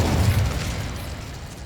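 In Hogwarts Legacy, the Incendio fire spell is cast with a low, rumbling whoosh of flame that bursts at the start and then fades away.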